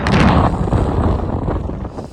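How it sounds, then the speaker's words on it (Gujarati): A strong headwind buffets the microphone while cycling downhill on a road out of Jomsom toward Muktinath in Nepal, giving loud, continuous rumbling gusts with no voices. "હવા એટલી આવે છે ને સામે"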